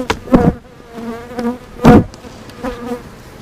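Honeybees buzz around an opened hive on a warm December day, a close droning hum that swells in short bursts. Light knocks and handling noises are heard, and no voices.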